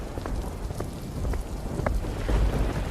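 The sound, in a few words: heavy rain sound effect in horror story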